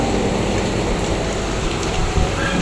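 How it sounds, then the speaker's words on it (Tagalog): Heavy rain pours steadily amid strong wind in a continuous, dense hiss with no pauses. "Umuulan pa rin."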